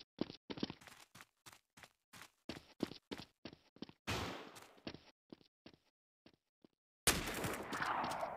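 Rapid bursts of gunfire in a Special Forces Group 2 shooter match, a dense run of sharp close shots with short gaps, then a louder, sustained crackling blast at the end, no talking.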